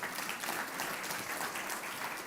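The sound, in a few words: audience applause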